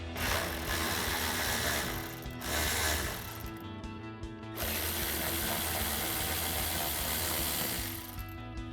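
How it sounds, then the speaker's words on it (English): A hand ratchet with an 8 mm socket turns out splash guard bolts on a Jeep Gladiator JT, giving a close, continuous fast clicking that pauses briefly twice before resuming. "So our first step is to remove these 2 8 millimeter bolts."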